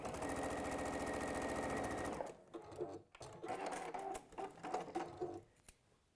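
A sewing machine runs a quick seam across fabric for a cushion, a fast steady mechanical whirr for about two seconds, then stops, leaving light clicks and handling of cloth.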